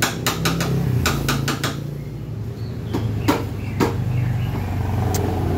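Hammer blows on rivets while replacing a clutch lining: a quick burst of several sharp metallic taps early on, then a few isolated strikes later over a steady background hum, fairly close and moderately loud.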